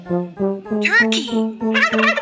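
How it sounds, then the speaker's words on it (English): Loud electronic turkey gobbling from a farm animal toy: a short run of rapid, warbling gobbles, close and steady, with no voices. "Turkey!"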